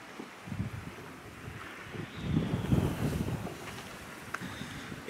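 Coastal wind gusts across the microphone on a sea fishing shore at Totland, Isle of Wight, a faint, uneven rumbling buffet that swells in the middle and eases off, alone without speech.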